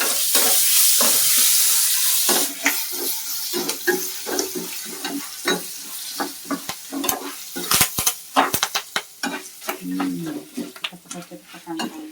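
Curry leaves, freshly picked from a backyard tree, fry and sizzle in a hot pan with close stirring and scraping clatter; a broad hiss at the start gives way to irregular crackles and utensil knocks.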